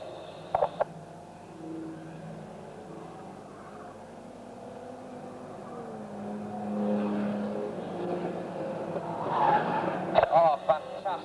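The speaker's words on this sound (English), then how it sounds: "What a spin round. Number 70 really goes round there." Banger racing car spinning round on a track during a race, tyre skid and engine roar building over several seconds amid a commentator's talk and crowd noise.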